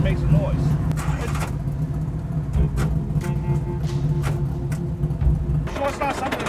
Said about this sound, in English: Yes, just start it. Put it in gear slow and see if it makes a noise.